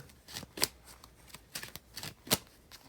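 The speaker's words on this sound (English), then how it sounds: "I'm going to shuffle some cards" Tarot cards being shuffled in several quick riffling bursts, close and fairly quiet, with short pauses between.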